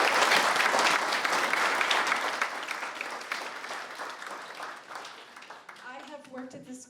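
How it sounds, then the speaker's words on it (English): Parents and family at a school graduation ceremony give a sustained round of applause, loud at first and slowly thinning out, with a voice starting to speak as the clapping fades at the end. "I would like all the parents and family to give yourself a round of applause right"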